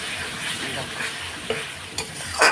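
Rohu fish curry masala fries hard in a pan with a dense, steady sizzle, broken by a couple of brisk spatula scrapes near the end.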